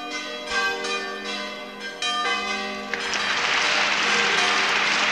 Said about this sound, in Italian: in mezzo a un applauso strisciante del pubblico presente